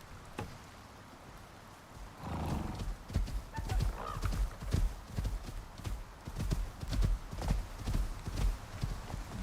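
Hooves clip-clopping in Icarus, a steady galloping rhythm of close, distinct thuds running for several seconds after a quiet start.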